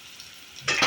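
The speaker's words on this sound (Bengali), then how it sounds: "এই যে কড়াই তেল বসিয়ে দিয়েছি চপ ভাজার জন্য" Battered potato chops go into a wok of hot oil: near-silence, then a sudden bright sizzle erupts and swells during the last third.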